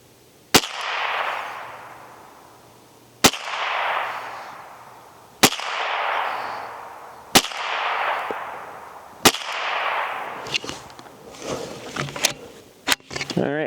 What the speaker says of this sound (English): So I'm just gonna take 5 shots at that, see how it goes.